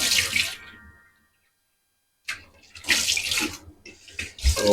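Tap water runs into a sink to collect broth water for Filipino sinigang soup with salmon head, two noisy splashing bursts separated by a silent pause, fairly close and loud with no talking.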